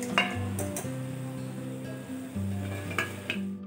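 Crispy fried nimki sizzling steadily in hot oil as they are lifted out, with a continuous crackling fry and occasional clinks of a metal utensil against the pan.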